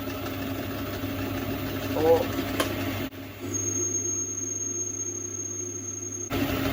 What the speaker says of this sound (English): It's only a little lathe, so can't get massive cuts.